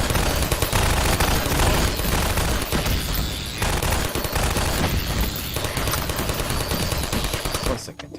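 Loud, dense gunfire in the Half-Life 2: Episode Two video game: rapid automatic bursts and overlapping shots rattle almost continuously up close, with brief lulls between volleys.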